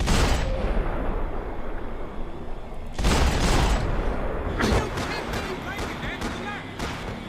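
Gunfire in the video game Max Payne 3, with dense bursts of shots and booming blasts across most of the stretch, loud and close, mixed with game effects and shouted combat voices.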